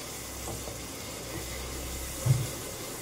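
Chicken and shrimp fry in a pan with a steady, low hiss of sizzling oil and one brief louder pop near the end, close and continuous with no talking.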